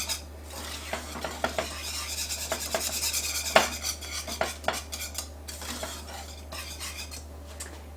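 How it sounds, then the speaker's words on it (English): Chocolate pie filling with vanilla is whisked in a pot, brisk rhythmic metal clinks and scraping against the pot sides over a low steady hum, close and alone without talk. "And we're just going to whisk until it's smooth."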